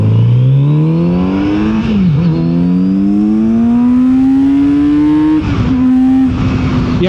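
A 2024 Kawasaki Z900RS motorcycle accelerates hard, its engine note rising in loud, close runs through the gears with quick dips at each shift, with no talking.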